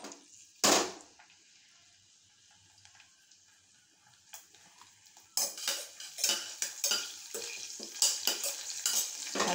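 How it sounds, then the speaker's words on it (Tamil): Curry leaves, cardamom, cloves and cinnamon hit hot oil for a capsicum chicken gravy: a sharp bang, a quiet stretch, then a steady crackling sizzle with stirring and utensil clinks, no talking. "காஞ்ச பிறகு கருவேப்பிலையும் ஏற்கனவே பொடித்து வைத்த ஏலம், கிராம்பு, பட்டை எல்லாத்தையும் எண்ணெயில் போட்டுறணும்."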